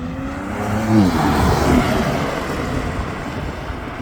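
An exotic car revs its engine while pulling away from an organized, well-kept car show at the Medina Autoplex. The rising engine note is moderately loud and fairly close, with broadband road and crowd noise underneath.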